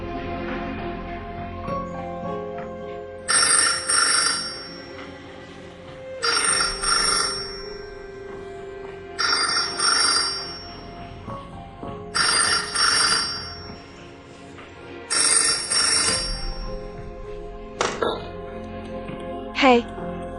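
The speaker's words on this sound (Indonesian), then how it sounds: "Telepon dari sekretaris Xiao." A telephone rings in repeated bursts, five evenly spaced rings over a low background of music in a drama scene, with another short ring near the end.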